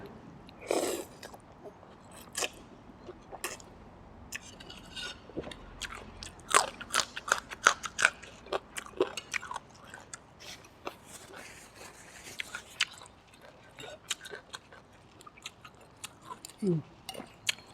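Someone eats Thai rice noodles in thick coconut milk curry with tilapia, served with long beans, cabbage and basil leaves. Close, repeated crunchy bites and wet chewing come in irregular bursts against a quiet background, with brief soft sounds between bites.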